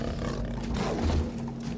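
A jaguar in Shadow of the Tomb Raider gives a deep, rumbling growl-roar that swells and throbs for under two seconds, close and heavy, with no talk over it.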